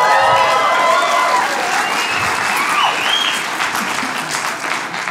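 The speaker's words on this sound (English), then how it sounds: "Don't clap." A comedy show audience applauds, a dense close clapping roar that is loudest at the start and thins gradually, with a few scattered cheers.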